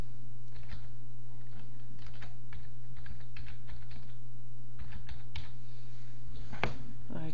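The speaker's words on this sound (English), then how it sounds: "Okay, so we're going to write an email address" Someone types an email address on a computer keyboard, producing a run of close, irregular key taps over a steady low electrical hum.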